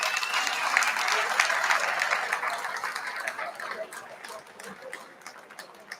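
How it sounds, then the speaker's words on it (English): An audience at a boxing dinner applauds, dense clapping from a large crowd that holds steady and then slowly thins out toward the end. "please give them a big round of applause"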